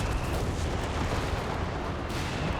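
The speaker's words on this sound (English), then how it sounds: "Another good walking Stuka barrage." A walking Stuka bombardment barrage in the game Company of Heroes 3: a dense, continuous rumble of overlapping blasts, loud and booming throughout with no gaps.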